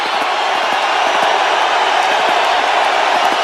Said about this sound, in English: Listen to these roars